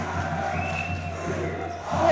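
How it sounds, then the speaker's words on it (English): Crowd at a school sports game between SMA and La Salette shouting and jeering in a sustained roar, swelling louder toward the end. "I'm not sure what the last crowd here is crying about."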